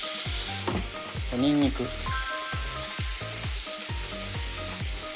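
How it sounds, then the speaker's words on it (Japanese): Loosened shimeji mushrooms fry in oil in a frying pan for a chicken cream macaroni dish, with a loud, continuous sizzle and rhythmic stirring; a voice speaks briefly over it. "そしたらそこにしめじほぐしてまず入れます"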